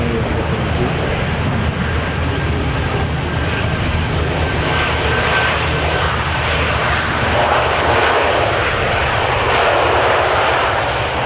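JetStar airliner jet engines rumbling at a plane-spotting spot, a steady broad roar with low rumble throughout, moderately loud and continuous, with people talking over it.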